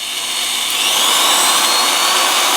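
A Tekhmann TLD-13/126 electric drill runs at low speed with its trigger locked, giving a steady close whine and motor hum that holds even and unbroken, with no talk.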